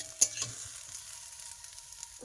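Small fish and onion frying together in a pan, a steady close sizzle with a couple of sharp stirring clatters near the start and no talking.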